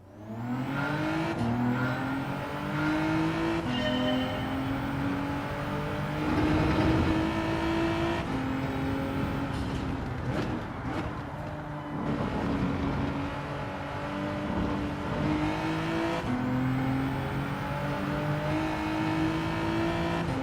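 A G70 race car engine in Gran Turismo 7 drives a Nürburgring or Sardegna daily race, revving up through the gears in repeated rising tones with brief shift drops, loud and continuous with no talk.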